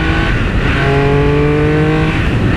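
A Triumph Speed Triple RS/RR motorcycle engine revs loud and close, its steady, rising throttle note holding strong harmonics throughout without pause.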